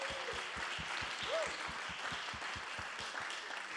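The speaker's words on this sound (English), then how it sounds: "Big applause." Steady, dense clapping from a crowd at an award ceremony, fairly loud and continuous throughout, with a few faint voices mixed underneath.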